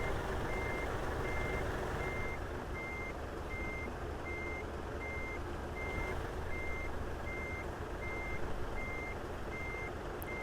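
Reversing alarm from a truck in Euro Truck Simulator 2 beeps in an even, steady rhythm throughout, sitting over a constant loud low engine drone.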